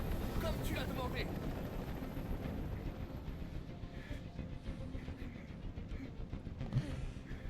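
A helicopter hovers overhead during a tense hostage standoff with snipers on the rooftops, a steady low rotor rumble and whine that runs throughout, with voices faintly underneath.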